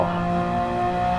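A Mercedes C63 AMG race car in Gran Turismo 7 roars at speed down a straight, a steady, loud, sustained engine drone with no break across the short moment.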